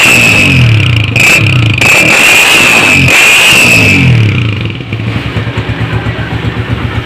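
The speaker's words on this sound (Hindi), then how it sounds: "अब इसी के सिलेंडर का साउंड भी चेक करें।" Close to the cylinder of a 1985 Honda CG 125 motorcycle, the engine revs loudly in several sharp surges with a whining mechanical rattle, then drops to a quieter, lumpy idle putter.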